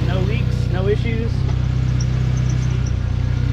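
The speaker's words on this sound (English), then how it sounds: "A little bit of belt squeal, but that's because of that coolant on it." A Mazda Miata engine idles steadily with a low, even rumble, coolant on its belt causing a slight squeal, while someone talks over it close by.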